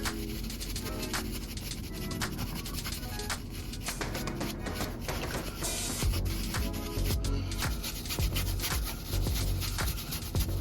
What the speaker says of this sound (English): Wipe it down a little bit, get the excess off.